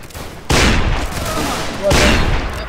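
A ragged volley of musket fire erupts suddenly in a video game line battle, rumbles on, then a second loud crackling volley follows, with faint talk before it.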